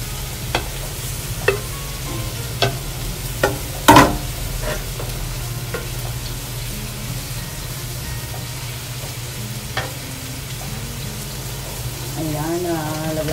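String beans and chili are added to a crab stew simmering in coconut milk with squash. A steady low bubbling and sizzle runs throughout, with scattered clinks and stirring knocks, one louder clatter, and light talk near the end.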